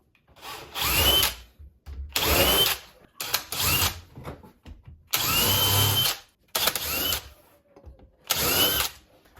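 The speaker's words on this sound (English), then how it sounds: "Pre-drill." A power drill pre-drills hinge holes in an interior door, whirring in six or seven loud bursts of about a second each, separated by brief pauses, close up and without talk.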